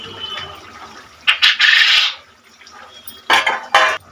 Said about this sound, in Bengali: এবার ডিমগুলো দিয়ে দিলাম